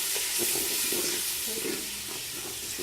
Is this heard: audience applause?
no